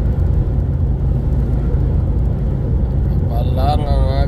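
Truck engine rumbling steadily from the cab while crawling through morning traffic in Sweden, a deep continuous low drone with road noise, and someone talks briefly near the end over it.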